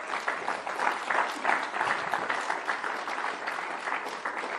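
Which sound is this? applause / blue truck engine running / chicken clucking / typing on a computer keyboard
applause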